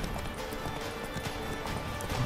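Horse hooves galloping in The Witcher 3: Wild Hunt, a quick clip-clop of close, moderately loud hoofbeats over a steady background bed, without speech.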